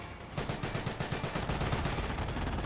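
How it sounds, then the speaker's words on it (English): Rapid, sustained bursts of Vickers medium machine gun fire in a Company of Heroes battle, a steady rattling stream of shots close and loud with no pauses. "The medium machine gun firing away."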